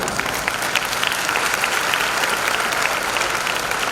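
Steady, dense applause from an audience at a Hindi lecture, many hands clapping continuously throughout with no speech on top.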